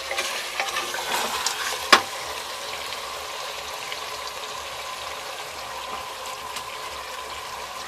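Korma sizzles and fries steadily in a pot while a utensil stirs and scrapes, with one sharp clink early on; no talking.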